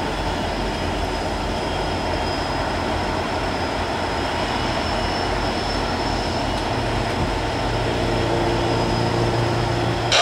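An Amtrak passenger train approaches, a steady distant rumble and rolling drone that builds slightly toward the end, heard alone without talk.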